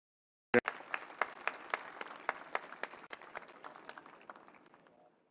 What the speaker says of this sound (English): A very loud hand of applause for the 35 years of Greenwich.